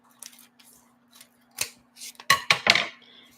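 Scissors snip through paper or card in a few sharp, close cuts, with a cluster of quick crisp snips toward the end, no talking over them.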